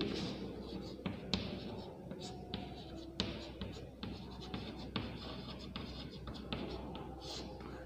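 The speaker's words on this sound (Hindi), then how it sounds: "इधर ही लिख देता हूँ" Pen or marker writing example sentences by hand on a board or paper, faint scratchy strokes with soft taps at irregular intervals, no talk during the strokes.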